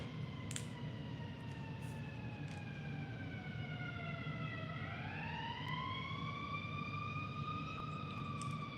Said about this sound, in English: There's an ambulance all the time, like every 10 minutes.